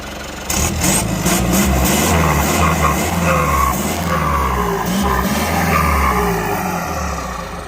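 Close, loud Kubota L50 tractor diesel engine, fitted with a turbo, revving up and holding a deep roar, with a high turbo whine and occasional hissing bursts.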